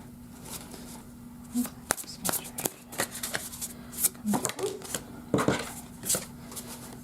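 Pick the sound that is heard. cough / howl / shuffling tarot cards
shuffling tarot cards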